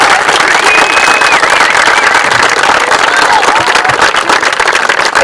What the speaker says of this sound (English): Let's give them a round of applause for just a minute.